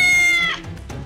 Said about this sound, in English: Oh, it was just the cat.